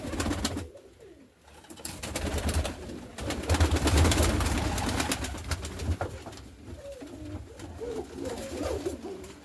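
A domestic pigeon coos in soft, repeated throaty rumbles, close by, over a steady rustling background with no talking.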